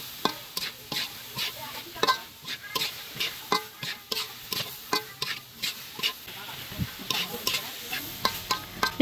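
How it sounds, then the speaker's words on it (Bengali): Lima beans and vegetables fry in spiced oil in a pan, with a soft sizzle underneath and a spoon scraping and stirring in regular strokes about once a second, close and clear. "এভাবে আমি মশলা তেলের সাথে তরকারিগুলোকে ভালো করে একটু ভেজে নেব।"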